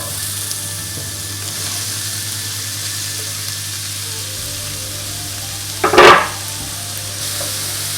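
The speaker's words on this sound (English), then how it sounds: "Heat up the frying pan, add about 2 tablespoons of olive oil or whatever the vegetable oil. We fry the onion first." Onion frying in olive oil in a hot frying pan gives a steady, close sizzling hiss throughout, with one brief louder burst of crackle near the end.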